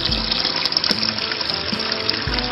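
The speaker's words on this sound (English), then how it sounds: "So the water is going at about 200 to 320 gallons per hour through this down to the bottom" Water flowing through a koi pond filter system built from a trash can filled with garden rock, a steady close splashing and trickling rush with small gurgles.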